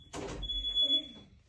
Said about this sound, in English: We have very sensitive smoke detectors